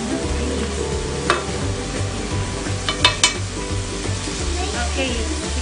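Onion, mushroom and cashew nuts fry in a pan for bowtie pasta carbonara, a constant close sizzle broken by a few sharp stirring clicks and clatters, with a faint voice in the background.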